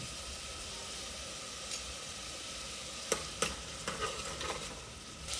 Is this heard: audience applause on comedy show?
no